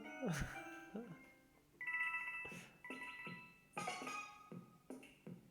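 Super Mario Run notification chimes after finishing a level: a series of bright, tonal ringing jingles in short bursts, fairly close and clear, interleaved with game sounds.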